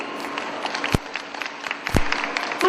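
Applause from an audience at a panel discussion with film actresses, a fairly steady wash of clapping at moderate level, broken by a couple of sharp louder bursts and light crowd noise.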